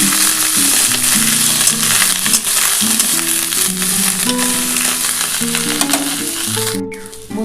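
Cauliflower stalks and potatoes fry in a hot pan, a loud, steady sizzle that runs throughout with occasional stirring scrapes, no voices over it.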